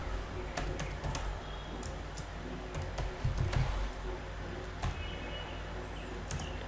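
Rapid clicking of code being typed on a computer keyboard, irregular keystrokes close up and fairly quiet, with no talking.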